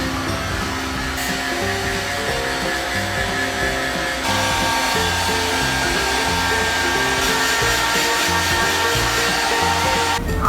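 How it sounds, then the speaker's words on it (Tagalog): A hair dryer blows on hair at home with a loud, constant whooshing roar and steady motor drone that continues without pause, its pitch shifting slightly partway through. "So, I'm going to dry my hair first."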